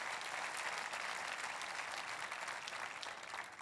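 A church congregation applauds together, a steady wash of many hands clapping at close range that holds throughout and tapers slightly at the end.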